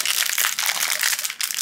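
A plastic toy blind bag with no tear strip crinkles and crackles loudly up close as hands struggle to tear it open, a busy run of sharp rustling bursts.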